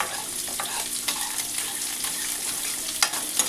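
Sliced onion fries in hot butter in a pan, giving a steady crackling sizzle with soft stirring scrapes and a few sharper pops, close and fairly loud, with no voices.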